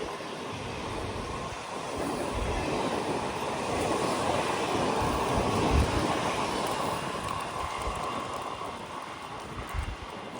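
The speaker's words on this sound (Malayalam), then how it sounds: "ഈ ട്രെയിൻ ഇവിടെ സ്റ്റോപ്പ് ഉണ്ടായിരുന്നുവെങ്കിൽ നമ്മൾക്ക് ഇതിൽ കയറാമായിരുന്നു." A train rolls past Kadalundi railway station as a steady, broad rushing rumble that swells slightly in the middle and persists throughout, with wind buffeting the microphone.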